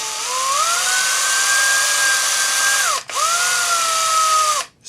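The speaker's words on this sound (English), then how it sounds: "I use a cordless drill to make my jump rings" A cordless drill whirs up to a steady high whine while spinning 1mm wire into a coil for jump rings. It winds down briefly, spins up again, then cuts out at the end. It is close and loud, with no talk.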